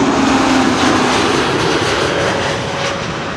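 A Transavia Airbus A321neo airliner landing at Schiphol in humid air, a loud steady jet roar with broadband rushing noise and a faint whine, sustained throughout and easing slightly toward the end.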